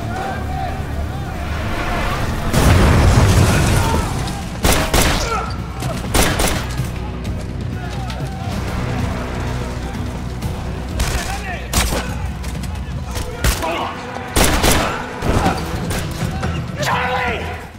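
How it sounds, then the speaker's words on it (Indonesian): A film shootout erupts with dense bursts of gunfire and heavy booms scattered across the scene. Shouting voices and commotion run underneath the shots. "Dan selanjutnya, baku tembak pun tak bisa dihindari lagi."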